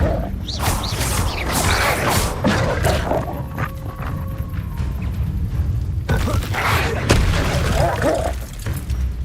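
Crashing fire-spell blasts and impacts from Incendio casts in the Hogwarts Legacy video game, several loud bursts separated by brief lulls, with a tonal whoosh in the middle and voices around them.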